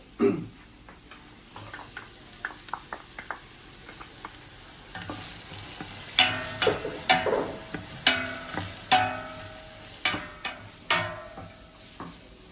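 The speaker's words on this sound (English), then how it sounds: "After you put the onion," Onion and garlic fry in a pan for pansit bihon, a steady sizzle under repeated stirring with sharp scrapes and clinks of a utensil against the pan, growing busier and louder in the second half.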